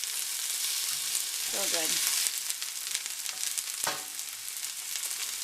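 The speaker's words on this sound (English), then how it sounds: "I love the smell of onion sauteing." Onions and mushrooms sautéing in a pan, a steady, fairly loud sizzle heard close up, with a brief spoken comment over it.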